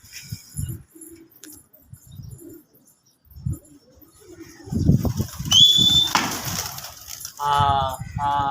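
A pigeon flaps its wings as it flies off from a group of newly kept pigeons, with a burst of wingbeats midway among scattered coos, chirps and light handling noises nearby.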